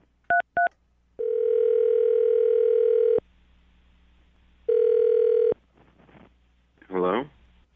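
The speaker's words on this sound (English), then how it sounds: "I'm going to dial the phone number right now" A telephone call is placed on a radio morning show. Two quick keypad beeps are followed by long, steady tones, then a short ringing burst, with faint voices in the background.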